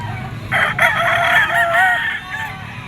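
A white-legged White Kelso Firebird gamefowl rooster with a round head crows once, a loud, close, drawn-out call lasting about a second and a half and trailing off over low background rumble.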